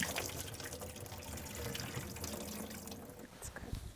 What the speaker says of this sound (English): I'm going to drain it a little bit.